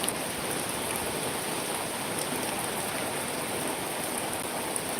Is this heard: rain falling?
yes